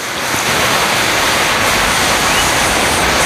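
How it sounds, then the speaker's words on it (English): Water hits ground left scorching hot by an underground coal mine fire in Centralia and sizzles away, a loud, steady hissing wash of broadband noise that swells in and holds for a few seconds. "water poured on it, sizzled away in an instant"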